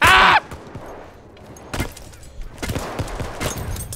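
A loud burst opens, followed by sharp, repeated bangs of Battlefield 1 gunfire scattered over a few seconds, fairly close and punchy.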